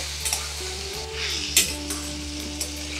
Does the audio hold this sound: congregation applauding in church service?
no